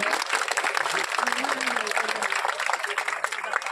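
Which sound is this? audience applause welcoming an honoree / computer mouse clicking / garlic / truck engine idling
audience applause welcoming an honoree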